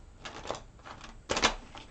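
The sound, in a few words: shuffling tarot cards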